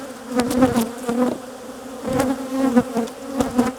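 Honey bees buzz loudly and close inside an open nuc hive, a dense, wavering drone with individual bees swelling and passing near, continuous across the whole stretch with no voices.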